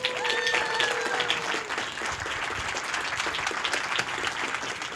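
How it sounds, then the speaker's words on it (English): An audience claps for speaker Daymond John at a Starkey hearing aid launch event, dense sustained applause filling the room, with no voices over it. "help me give our next speaker a huge welcome and a round of applause"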